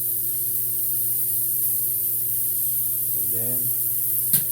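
Hamburger meatballs sizzle in a hot frying pan for a diner-style burger, a loud steady hiss filling the whole clip while someone speaks briefly over it.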